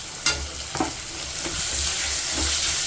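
Tomatoes being stirred into ginger garlic paste in a hot pan for a chicken dish, a steady sizzle and hiss under a few sharp scraping strokes of the spoon, close and fairly loud with no talk.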